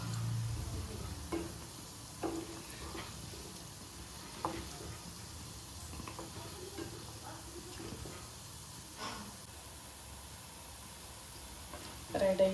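Gulab jamun fry in hot oil with a soft, steady sizzle, stirred now and then with light scraping clicks; someone talks over the frying at times.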